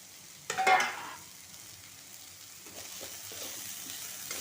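A lid is lifted off a pot of wild vine vegetable (ghotyachi vel) steamed without added water, giving a brief metallic clatter followed by a faint, steady hiss of steam and soft sizzling.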